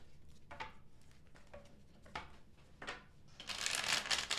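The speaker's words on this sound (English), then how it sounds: "Last shuffle for Taurus placements." Tarot cards being shuffled by hand indoors, a few soft riffling bursts that build into a louder, sustained riffle at the end, with no talking.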